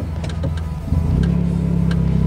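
A car engine idling low, then rising in revs as the driver accelerates slightly during a hill start, a close, steady drone that swells partway through and holds.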